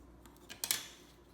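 Scissors snip through excess washi tape while a paper rosette is being made, giving a few quick, faint clicks close by with no talking.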